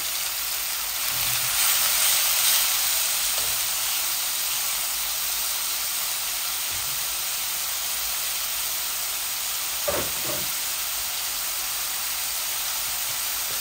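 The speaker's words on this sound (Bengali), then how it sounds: "আমার রসুন লাল হয়ে গেছে, আমি একটা পেঁয়াজ দিয়ে দিচ্ছি।" Onion added to hot oil with browned garlic sizzles in a pan, a steady broad hiss throughout with a few brief clinks of utensils.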